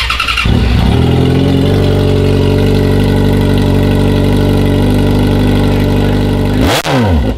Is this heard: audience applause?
no